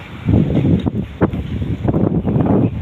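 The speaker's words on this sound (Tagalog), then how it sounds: "Ay, nako. Lakas ng hangin." Strong amihan wind in Dubai buffets the microphone in loud, rumbling gusts with sharp thumps, a steady roar throughout and no voices.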